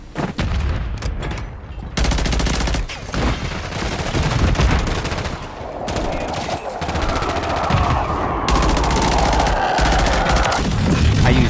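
Sustained automatic gunfire in Modern Warfare 3 multiplayer, loud, dense rapid bursts with booms and a whining effect, continuing almost without pause, with a voice talking over it.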